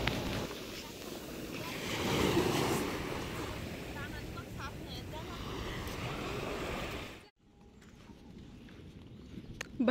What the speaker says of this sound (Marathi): भरती खूप आहे, खूप जवळ लाटा मोडत आहेत